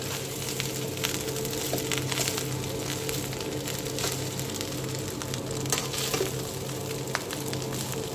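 Chicken fried rice sizzles and crackles steadily in a hot pan on medium-high flame, a dense continuous frying hiss with scattered scraping and stirring clicks, close and constant, no talking.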